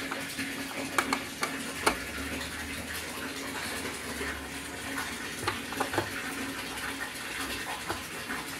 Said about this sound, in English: That's while the tub fills up to rinse the dust cup